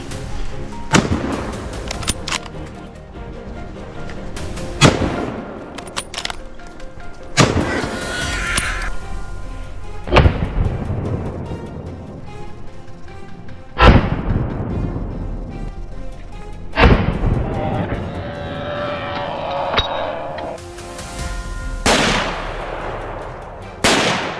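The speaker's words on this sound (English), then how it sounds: "Gunfire echoed through the air" Rifle shots ring out at a herd of wild boar raiding a sweet potato patch near deep woods, a series of loud sharp cracks spaced several seconds apart, each trailing into a rolling echo.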